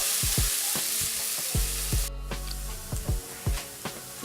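Onions fry in a pan toward golden brown for Kashmiri rajma, giving a steady close sizzle broken by repeated knocks and scrapes of a spoon stirring them, with no talking.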